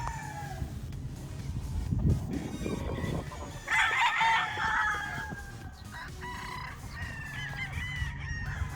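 A Paul Spark Gray gamefowl rooster crows once, loud and close, amid clucking and honking fowl at a breeders' booth at a stag fiesta, with background chatter around it.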